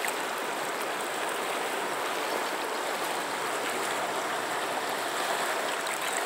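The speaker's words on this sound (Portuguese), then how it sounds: "Aqui é que ela fica numa correnteza assim violenta." The strong, fast current of the Acaraú River at Sobral, swollen after rain, rushes in a constant loud broadband roar of churning water, close and unbroken, with no voices.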